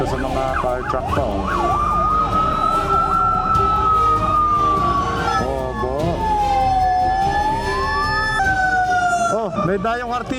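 Several loud fire truck sirens wail and sweep up and down at once, overlapping in a dense chorus with engine rumble and distant voices beneath.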